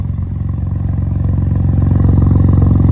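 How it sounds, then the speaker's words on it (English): Deep, rumbling engine note of a 170 bhp Ford Fiesta through a loud straight-through exhaust, a steady throbbing idle that swells gradually louder, heard up close. "this exhaust system is really loud"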